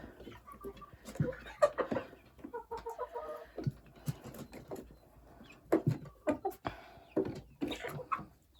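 Three-month-old chickens cluck softly while pecking at food, with irregular nearby clucks and scratchy pecking, and someone talking quietly in between.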